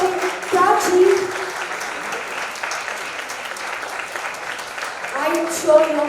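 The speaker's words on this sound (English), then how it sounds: "Can we have a big round of applause for Dr. Prachi?" An audience claps steadily for the second runner-up at a showcase event, sustained applause with a voice speaking at the start and again near the end.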